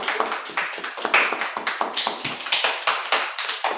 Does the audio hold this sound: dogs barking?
no